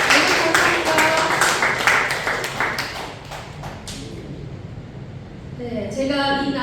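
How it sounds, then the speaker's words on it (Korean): A church audience applauds at a Korean church thanksgiving report gathering. Brisk clapping fills the first few seconds, then thins and fades out, and soft musical tones rise at the end. "박수 내주세요"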